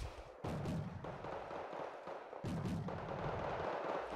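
Mortar fire in the strategy game Wargame: Red Dragon, two distinct heavy thumps a couple of seconds apart, each followed by a rumbling roll of distant battle noise.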